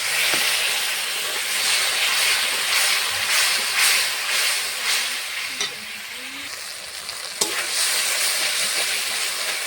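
Spice paste is sautéed for a bata fish curry with onion and garlic, making a loud, continuous sizzle and hiss up close, with occasional scrapes and clinks of a stirring spoon.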